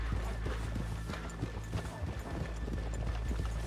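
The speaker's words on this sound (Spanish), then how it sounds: "Es muy bonito el percherón que lleva Bill, tío." Hooves of a Percheron draft horse clop along in Red Dead Redemption 2. The steady, muffled footfalls sit under a dense low rumble of in-game ambience, with no distinct voice over them.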